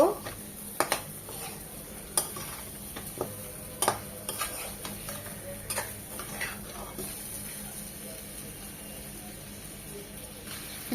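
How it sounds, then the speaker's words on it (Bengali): Fish bones sautéed with spices in a pan, a steady sizzle with repeated sharp spatula scrapes and clicks against the pan at close range. "মশলার সাথে দু তিন মিনিট এগুলো একটু কষিয়ে নেব"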